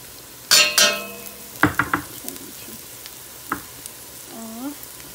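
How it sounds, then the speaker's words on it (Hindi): Onions fry with garlic ginger paste for chicken karahi, a soft sizzle broken by sharp metal clinks and scrapes of a spoon against the pan, with a short squeaky sound near the end. "हमारे प्याज फ्राई हो चुके हैं, अब हम इसमें लहसुन अदरक का पेस्ट डाल देंगे।"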